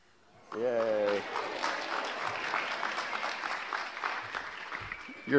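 An audience claps steadily for several seconds at a talk, a brief spoken exclamation opening the applause before it settles into even, dense clapping that fades near the end.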